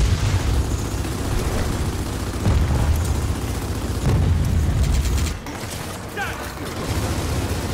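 Gunfire and heavy mechanical rumbling in Gears of War 4 as players shoot an exposed core, a dense continuous barrage with booming impacts, and speech mixed in under the noise.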